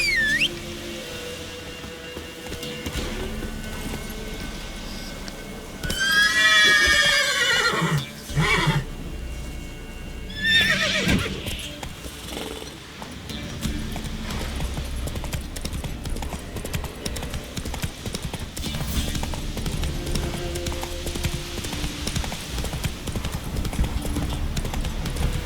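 Horse Roach in the video game The Witcher 3 whinnies loudly, then clip-clops at a steady gallop over a rumbling game soundscape of ambient noise and effects, with no talk.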